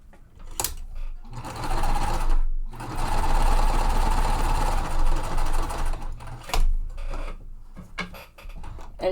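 A sewing machine stitches quilt block pieces in two sustained whirring runs of a few seconds each, loud and close, separated and followed by short pauses with clicks and handling noises.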